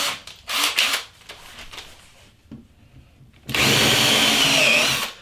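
A power drill countersinks screw holes in wooden racking, with a few short bursts early on, a quiet pause, then a loud, sustained whir close by for the last couple of seconds.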